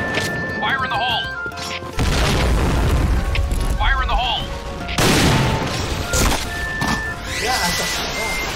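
Booming grenade explosions in the shooter game Point Blank, loud and crashing, with gunfire and someone talking over the game action.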